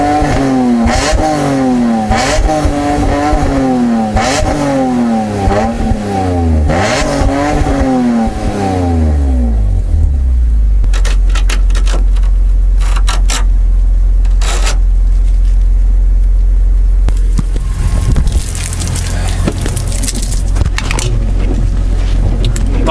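A BMW M3 climbs a wet mountain pass, its engine revving repeatedly through rising and falling gear pulls, then the note drops as it brakes and settles into rumbling road and rain noise, loud and close from on board.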